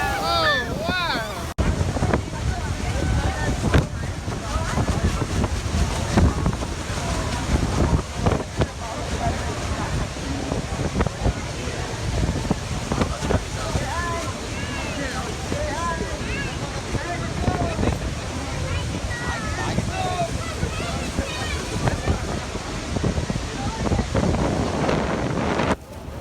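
Niagara Falls roars and churns around a tour boat, with heavy wind buffeting the microphone, constant spray and surf noise, and people talking and exclaiming over the din.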